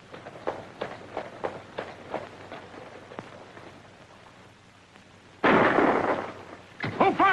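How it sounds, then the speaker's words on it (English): A gunshot rings out in a 1939 western, one sudden loud blast with a ringing tail that breaks a quiet stretch of soft footsteps, followed by another burst of sound. "Who fired that shot?"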